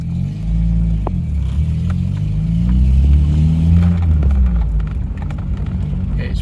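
A VW Scirocco MK2 on a test drive gives a loud, close engine rumble that rises steadily as it accelerates, with a softer whirring and road noise continuing underneath.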